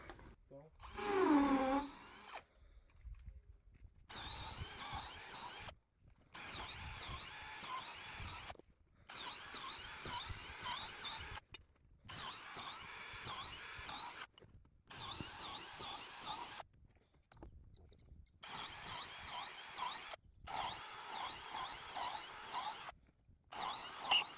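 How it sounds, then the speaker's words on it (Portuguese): A power drill bores bolt holes in a homemade wooden farm gate, in about seven separate whirring bursts broken by short pauses. "nós vamos fazer os furos onde a gente vai passar os parafusos"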